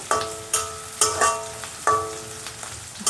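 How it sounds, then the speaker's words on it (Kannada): Onions fry in a pan for carrot chitranna, with a steady sizzle broken by several sharp scraping strokes of a spatula in quick succession. "ಇವಾಗ ಈರುಳ್ಳಿ ಫ್ರೈ ಆಗಿದೆ"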